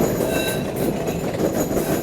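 A train rolls along its rails in a loud, continuous rumble with faint squealing wheels, heard from on board and without talk.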